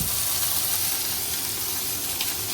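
Steady, loud sizzling of chicken frying in a hot pan, a dense hiss with no talking.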